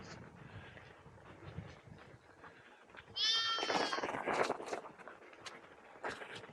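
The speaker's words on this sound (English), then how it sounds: "Hey, lambs." Lambs on a hill station bleat nearby in a short burst of overlapping wavering cries, fairly faint against a quiet outdoor background with no voices.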